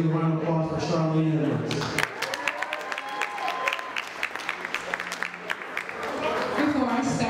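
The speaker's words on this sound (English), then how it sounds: "Let's give a round of applause for Charlene" An audience at an art and poetry event applauds a poet named Charlene with a dense burst of clapping and some cheering that swells after a spoken introduction, then fades as a voice returns.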